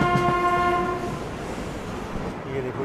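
Indian passenger train horn on the Mahanagri Express between Varanasi and Mumbai, sounding during a chain pulling stop: a loud sustained tonal blast that fades out over the first second, giving way to rumbling rail and carriage noise.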